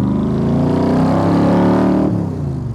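A 1965 Shelby Cobra Backdraft accelerates at about a third of throttle, its loud, close engine note climbing steadily with a rich rumble for about two seconds before easing off. No voices.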